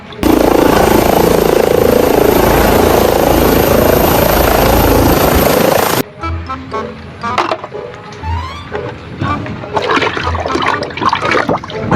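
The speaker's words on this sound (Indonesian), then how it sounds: "Pesawat helikopter teman-teman." Toy helicopter buzzing loudly with a dense whirring roar for about six seconds, then stopping abruptly and giving way to quieter clicks and rattles of handled plastic.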